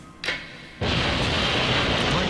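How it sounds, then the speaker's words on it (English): An explosion in an anime episode bursts in suddenly and stays loud and dense, a sustained roaring blast that follows a quieter stretch with a brief earlier thump. "What was that? An explosion!"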